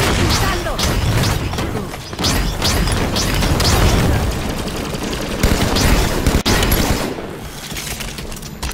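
Dense, continuous barrage of rocket launcher fire and blasts in Halo 5: Guardians, with loud booms and crashes layered over one another and no pause.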